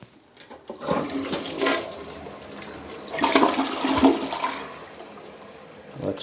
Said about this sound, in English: I'm going to flush it again on the larger flush